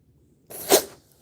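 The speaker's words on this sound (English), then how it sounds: "he just sneezed all over my hand." A rescue cat recovering from pink eye lets out one sharp, close sneeze, a short burst that rises and fades within about half a second against near silence.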